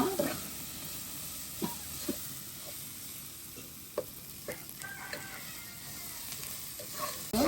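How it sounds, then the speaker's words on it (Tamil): Ginger, garlic and green chillies fry in a pan for chicken curry, a continuous close sizzle broken by repeated stirring scrapes and taps of the spoon, with no voices. "நாங்கள் இஞ்சி உள்ளி பச்சை மிளகாய் போடுவோம். ஒரு 2-3 நிமிஷம் நல்லா கிளறுங்க."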